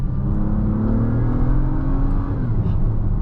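A 2024 Acura MDX Type S downshifting while descending a hill under braking, a steady engine drone inside the cabin with a smooth falling then rising tone, moderately loud with no talk.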